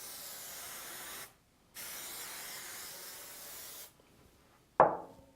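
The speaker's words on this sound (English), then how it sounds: "She likes her spray. She's a little heavy on the spray." Basting spray hisses onto a quilt in two long, steady bursts separated by a short pause, followed by a sharp knock or tap at the end.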